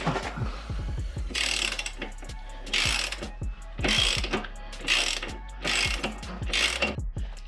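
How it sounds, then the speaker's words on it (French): A 22 mm socket wrench ratchets repeatedly while loosening the rear axle nut on a Rieju MRT 50cc motorcycle, giving close, sharp clicking bursts in a steady back-and-forth rhythm with short pauses between strokes. "de l'autre côté je vais me servir d'une clé à douille de 22, et comme ça là du côté gauche ça va maintenir et avec ça je vais dévisser"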